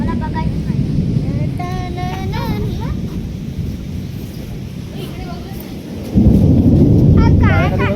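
Rain pours steadily during a thunderstorm near a village goddess temple, with thunder rumbling and strong wind buffeting the microphone; voices talk over it, and the downpour grows louder near the end.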